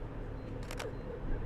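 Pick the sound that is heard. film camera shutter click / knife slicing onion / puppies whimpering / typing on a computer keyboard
film camera shutter click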